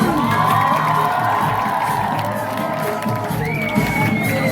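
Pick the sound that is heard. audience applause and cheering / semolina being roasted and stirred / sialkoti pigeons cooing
audience applause and cheering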